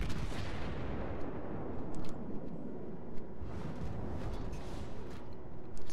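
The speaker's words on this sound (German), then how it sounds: "Oh, ich bin gerade unter Beschuss." A German cruiser, the Nürnberg, comes under artillery fire in World of Warships, a dense continuous rumble with repeated booming shell impacts and explosions, loud and sustained throughout.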